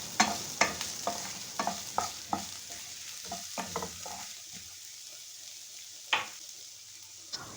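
Chopped onion and garlic sauté in two tablespoons of oil over medium heat for a creamy prawn dish, a soft sizzle punctuated by repeated sharp spatula scrapes and knocks that thin out toward the end.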